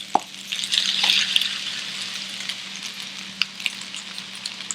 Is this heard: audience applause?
no